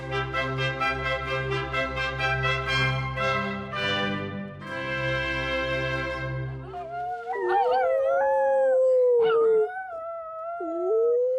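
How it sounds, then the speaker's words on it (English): Several dogs howl together in a long, sustained chorus that breaks into higher yips and wavering cries, loud and close at a Texas junkyard, with no talking. "Some people never make it past the dogs."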